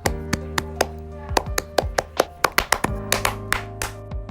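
Scout-style rhythmic clapping in an anime scene, a series of sharp, close hand claps in a quickening pattern over a sustained musical tone.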